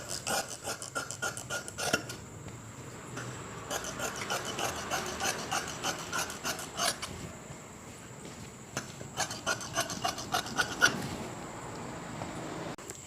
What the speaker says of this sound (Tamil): இப்போ இதை நான் கட் பண்ணி காட்டுறேன்